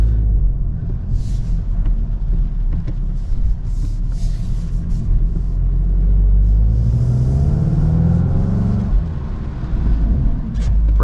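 A 2025 Volkswagen Golf R or GTI accelerating hard around the Road America race track in sport mode, a loud, steady engine roar with deep rumble and rising revs heard from inside the car.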